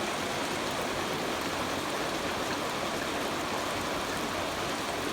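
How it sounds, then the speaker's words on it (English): Steady rain with water from a leaking gutter flowing into a tub, a dense continuous hiss and patter at constant level, with no voices. "listen to the rain. My gutter's leaking a little bit."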